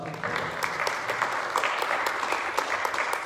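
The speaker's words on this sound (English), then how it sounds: "let's give a round of applause for our place five." A burst of applause from a modest crowd at a chamber of commerce candidate forum, steady clapping that starts abruptly and holds at an even level throughout.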